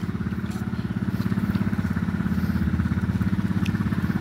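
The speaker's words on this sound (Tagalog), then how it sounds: "Ito po yung water pump na pambomba sa tubig." A borrowed motorcycle engine drives a water pump pumping out floodwater from a road in San Pedro, giving a steady, loud, rhythmic chugging drone close by.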